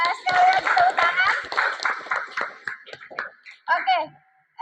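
Students in a classroom clap their hands, sharp quick taps running under children's voices and chatter before tapering off.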